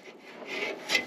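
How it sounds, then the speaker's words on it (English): Hand sanding scrapes a part on a 1994 Peterbilt cabover truck, giving a soft, raspy rubbing stroke that swells and fades over about a second, faint and close. "it's actually kind of sanding it down."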